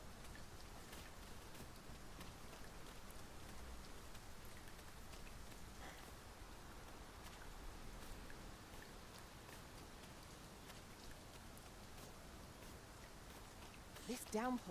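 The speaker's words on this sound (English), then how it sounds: "This downpour seems unlikely to abate." A steady rain downpour in the video game Dragon's Dogma 2 hisses evenly throughout, a soft, continuous wash of raindrops with no clear breaks.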